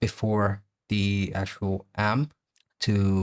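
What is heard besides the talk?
No everyday noises stand out.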